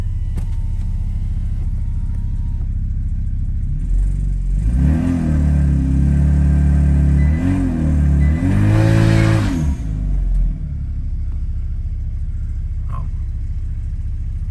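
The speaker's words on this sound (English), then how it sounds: "Definitely built boost, and the back tire started spinning a little bit, even though this is all-wheel drive" A Kia Stinger GT2 all-wheel-drive car revs and builds boost in short surging bursts, a loud close engine roar with brief tire spin and clatter, then drops back to a steady idle.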